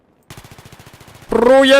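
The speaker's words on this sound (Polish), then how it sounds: "to nie jest pelotka, tylko to jest takie coś, co strzela petardami" A rapid-firing weapon in Battlefield 3 lets off a quick string of about a dozen sharp firecracker-like pops, then a louder, denser burst of gunfire takes over at the end.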